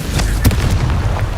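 Confringo blasting spell exploding in Hogwarts Legacy, a short close burst of booming blasts with a sharp crack near the middle over a rumbling low background.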